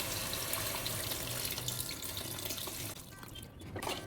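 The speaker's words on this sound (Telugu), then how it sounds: "ఇది ఇప్పుడు మనం దీంట్లోకి చింతపండు రసం పోసుకున్నాం." Tamarind juice poured into a pot of bottle gourd dal, a steady close splashing stream of liquid that runs for about three seconds before tapering off, with no speech.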